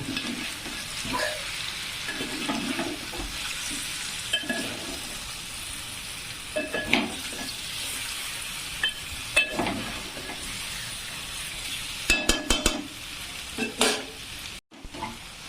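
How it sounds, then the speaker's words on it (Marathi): Fish curry being stirred in a pan over a steady bubbling sizzle, with periodic spatula scrapes and a cluster of sharp knocks toward the end. "अशा पद्धतीने हलवायचं आहे"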